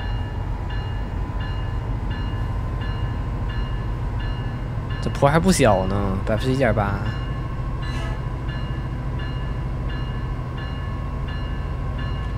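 A train horn sounds in two long blasts from a locomotive in Train Sim World 5, driving near Los Angeles in a thunderstorm with rain and fog. The blasts rise over a steady rumble of the running train, with someone talking throughout.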